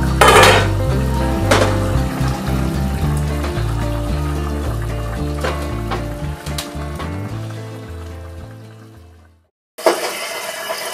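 Cooked fish being turned in a pot of okra sauce, with loud metal utensil clanks and scrapes against the pot in a repeating rhythm, then a short silence and a final clatter.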